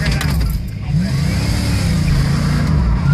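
A pickup truck stuck in the dirt revs its engine steadily and loudly up close, with voices talking over it.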